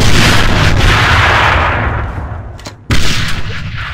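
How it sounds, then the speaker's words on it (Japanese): A grenade explodes in the shooter game AVA: a loud, close boom with heavy rumble dies away over two seconds, then a second sharp blast follows after a brief gap. "手榴弾投擲！"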